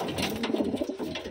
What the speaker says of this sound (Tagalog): Ito pala mga kalapatids ay yung auction.